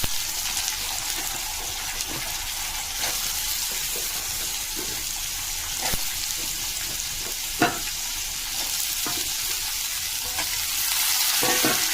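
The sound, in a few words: potatoes frying with garlic in a pan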